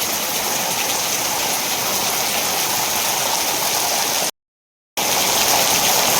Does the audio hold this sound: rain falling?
yes